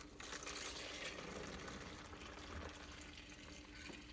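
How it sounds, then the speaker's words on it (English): Protein pancake batter poured back into a container through a kitchen funnel, a continuous liquid pouring and gurgling hiss held steadily at close range for several seconds. "I can just pour it right back into my container."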